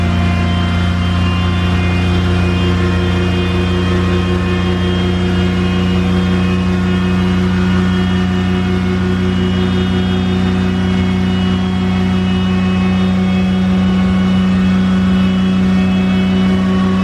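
A V6-swapped Acura Integra engine holds steady on a two-step launch control set at 5,000 RPM with the e-brake on, giving a loud, continuous, close drone with no talking.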